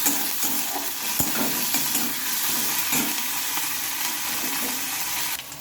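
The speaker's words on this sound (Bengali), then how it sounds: "পেঁয়াজটা একটু ভেজে নিয়েছি আর দিয়ে নেব এক চামচ মতো হচ্ছে রসুন আদা আর হচ্ছে কাঁচা লঙ্কা বাটা দিয়ে নিলাম" Onion frying in a pan with garlic, ginger and green chili paste, a moderate continuous sizzle with occasional stirring clicks and a sharp tap near the start.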